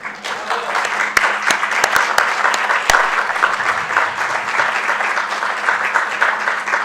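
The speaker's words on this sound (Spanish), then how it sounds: "voy a tener que partir pidiéndoles un aplauso para ella" Audience at a Latin American political ecology congress plenary claps for a woman's birthday, a steady wash of applause with a few sharp, close claps standing out near the start.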